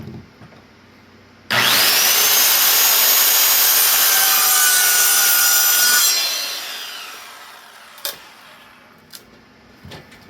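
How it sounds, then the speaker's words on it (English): A handsaw cuts wood for a wall shelf with a nearly worn-out blade, the piece held by hand rather than clamped. One loud, steady stroke run lasts several seconds, fades out, and is followed by a few faint knocks. "I'm gonna need a new saw blade soon. This one is almost done."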